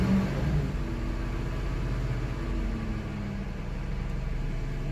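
A 2002 Cadillac DHS with a 4.6 engine idles too high, giving a steady, continuous low rumble with a faint hum close by and no breaks or speech.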